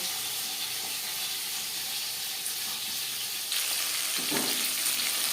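Pieces of fish fry in a hot pan, a steady quiet hiss and sizzle that swells a little louder about midway and stays alone without voices.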